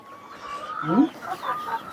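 A few soft clucks from hens on a farm nearby, brief and low, over a faint background hum.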